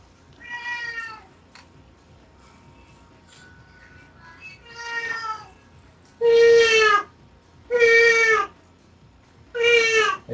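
A house cat meows repeatedly, a couple of softer cries followed by three loud, drawn-out meows at close range, spaced a second or so apart with quiet between.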